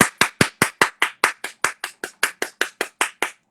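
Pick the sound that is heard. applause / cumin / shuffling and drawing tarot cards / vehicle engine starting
applause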